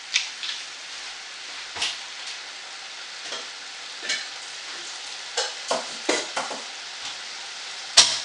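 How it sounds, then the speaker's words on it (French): A spoon stirs a tajine malsouka mixture in a pan, giving intermittent scraping strokes and soft clinks against the pan, spaced irregularly over a quiet background with a final sharper knock. "Comme ça, je mélange bien pour que tout sera mélangé."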